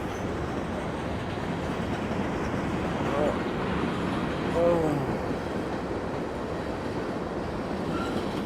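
A train passes a parking lot beside a small fitness area in Iuka, heard as a steady low rumble of rail cars with faint wheel squeals rising briefly midway, continuous throughout.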